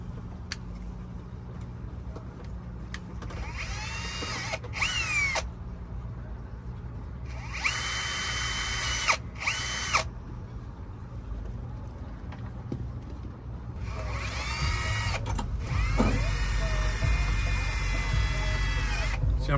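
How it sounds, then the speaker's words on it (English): Short bursts of a power drill whining at high speed aboard a sailboat, starting and stopping several times, with low background hum and clatter between runs. "See how much easier that was with a good drill bit that's not toast?"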